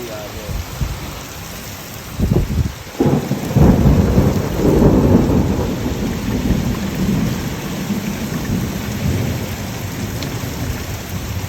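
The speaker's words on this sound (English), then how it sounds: "It's really raining." Heavy rain pours down steadily during a thunderstorm beside a driveway, with a loud thunder crash early on followed by rumbling, then a dense continuous hiss of rainfall.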